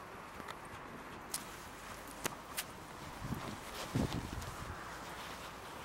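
Horse hooves clip-clop on an arena surface during a dressage lesson working on bend and hip mobilisation, sparse soft footfalls with a few sharper knocks, moderately distant over a steady ambient hiss.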